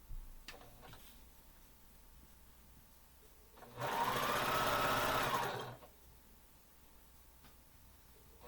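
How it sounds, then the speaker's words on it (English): A sewing machine runs in one steady burst of about two seconds, stitching a quarter-inch seam alongside a drawn line on a quilt block, loud and close against a quiet room with a few faint clicks before and after. "we're going to sew to the left and right of that line that we drew, 1/4 inch"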